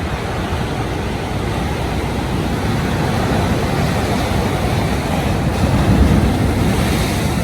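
Ocean surf rolls in steadily along the Jamaican coast in St. Thomas, a loud continuous wash of breaking waves with wind buffeting the microphone throughout, and no voices.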